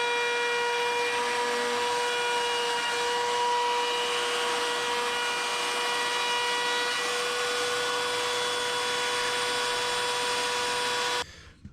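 A power router with a rounding bit shaping wooden quarter-round trim, a loud, continuous high-pitched whine with steady tonal hum that cuts off sharply at the end.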